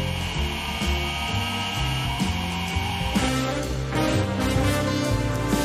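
An electric Sculptor 064 coffee grinder with turbo burrs grinds coffee beans in a steady, loud motor whir that carries on without pause, its pitch and texture shifting slightly partway through, with no voices.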